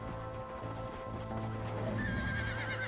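A horse whinnies in the Red Dead Redemption video game, a drawn-out neigh rising over steady background game music and hoof-like clatter, fairly close and continuous throughout.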